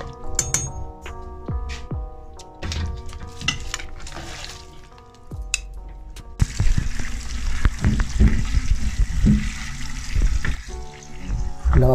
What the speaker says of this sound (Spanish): Lavamos el garbanzo y lo añadimos a la olla.